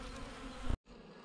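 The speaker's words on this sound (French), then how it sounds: "Des abeilles devant la porte, alors qu'il ne fait pas de grosse chaleur," Honeybees buzzing steadily at a hive entrance on a mild day, a dense close hum that runs for under a second before cutting out abruptly, then resumes more faintly.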